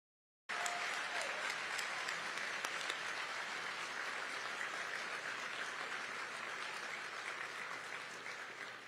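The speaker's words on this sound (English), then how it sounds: "I was going to say a round of applause, but you guys beat me to it" A crowd of audience members bursts into applause, a dense, steady wash of clapping that starts abruptly and holds for several seconds before easing slightly toward the end.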